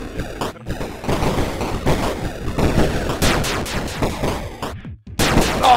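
Dense, continuous gunfire in the s&box video game, with rapid overlapping shots and booms, loud and chaotic, briefly dropping out twice.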